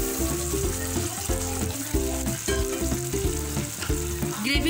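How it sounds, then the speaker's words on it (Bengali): Hot water poured into a pan of mustard gravy for coriander-mustard hilsa sets off a steady, loud sizzle and bubbling, partly masked by background music throughout. "এবার আমরা একটু গরম জল দেব।"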